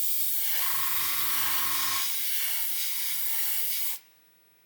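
Gaahleri Mobius TG 0.5 premium airbrush spraying a heavy flow of paint onto a model, a loud steady hiss with a pulsing compressor hum underneath for a few seconds before cutting off abruptly.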